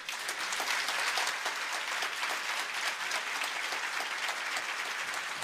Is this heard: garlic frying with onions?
no